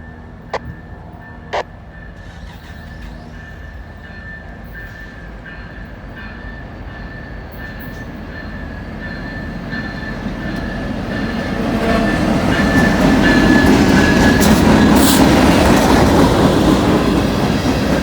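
A CSX local freight train rolls past on the adjacent track, a steady rumbling roar that swells louder toward the end, with a high tone and clattering wheels.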